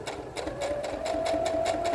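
A sewing machine stitching an invisible zip runs steadily with a fast, even needle rhythm, close and continuous, on its own.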